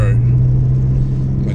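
Mitsubishi Pajero truck driving with a loud, close, steady engine rumble and road drone throughout.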